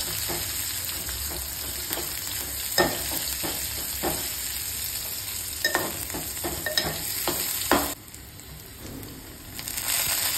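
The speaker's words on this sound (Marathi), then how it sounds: "तर इथे मी तेलामध्ये टाकलेलं आहे जिरं, राई, हिंग, त्यानंतर कांदा कापून टाकलेला आहे।" Chopped onion fries in hot oil with cumin, mustard seeds and asafoetida, a steady sizzle broken by scattered stirring scrapes and clinks, with no voices.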